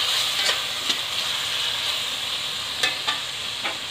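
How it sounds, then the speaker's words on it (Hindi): Finely chopped tomatoes are stirred into frying masala in a kadai for kadai paneer, giving a steady close sizzle with occasional soft spoon scrapes and taps against the pan. "और टमाटर को डाल के इसे अच्छे से हम मिक्स करेंगे मसाले में।"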